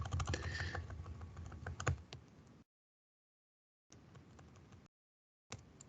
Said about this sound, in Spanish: Mi teclado, horrible.